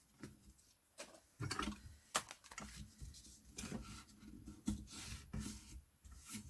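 Hands creasing the folds of a paper book-box cover, giving close, soft rubbing, scraping and pressing sounds in irregular strokes, quiet and with no talking.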